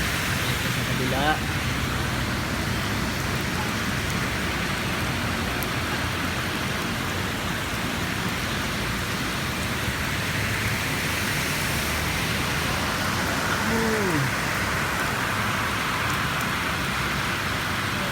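Semi-heavy rain falls steadily in Jeddah, a dense, even hiss that holds throughout without letting up, with faint background voices now and then.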